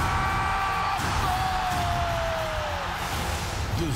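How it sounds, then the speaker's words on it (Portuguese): A large football crowd roars and yells continuously at a goal in a Palmeiras versus Flamengo Supercopa do Brasil match, a loud, sustained stadium din with a whistling tone sliding across it. "Faz esse povo soltar o grito."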